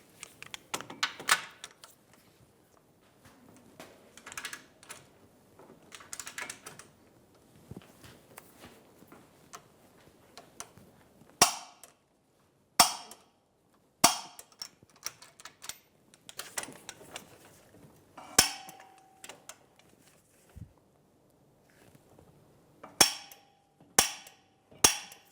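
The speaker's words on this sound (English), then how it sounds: "We're going to torque the front two bolts first to 148 foot-pounds" Sharp, isolated clicks from a torque wrench tightening the front lower control arm bolts on a 2007-2011 Toyota Camry, arriving singly and in small groups against quiet shop background and light handling noise.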